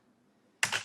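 A quick, sharp burst of computer keyboard typing a chmod command, just a couple of clicky keystrokes after near silence.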